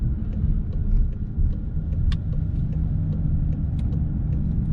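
A car driving through Nuremberg city streets while changing lanes, heard from inside as a steady low engine and road rumble with faint light ticks and clicks scattered over it.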